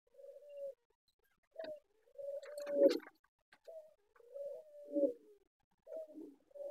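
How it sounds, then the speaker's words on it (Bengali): A pair of Golla pigeons coos softly and repeatedly, low rolling calls close by in a quiet setting, several phrases with short gaps between. "এখন যে পেয়ারটি দেখাচ্ছি এটা হচ্ছে গোল্লা কবুতর রানিং পেয়ার।"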